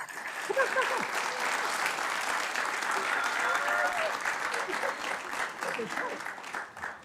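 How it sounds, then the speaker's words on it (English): Audience applause at a city council meeting, sustained clapping from a room full of people that holds steady for several seconds, with a few voices and cheers mixed in, then begins to fade near the end. "now you may applaud this fantastic young lady"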